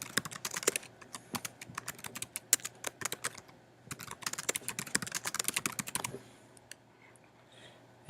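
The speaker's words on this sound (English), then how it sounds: "Type in the account information" Account details are typed on a computer keyboard in quick bursts of crisp, close key clicks, broken by short pauses and a brief lull near the end.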